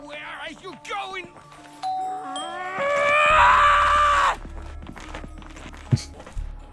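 A doorbell rings inside a home, a clear chime standing out between bursts of lively talk and raised voices in Romanian-speaking family conversation.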